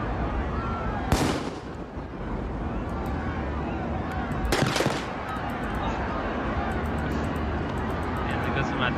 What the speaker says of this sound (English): they got some artillery on you